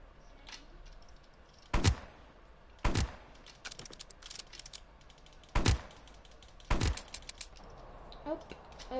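Rifle gunshots in the Roblox game 99 Nights in the Forest: four sharp, loud shots spaced a second or two apart over a low background, with faint clicks between them.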